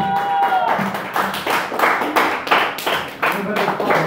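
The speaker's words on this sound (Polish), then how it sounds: "I klaszczemy." A crowd of guests at an 18th birthday party claps in a steady, rhythmic beat, loud and close, with voices chattering underneath.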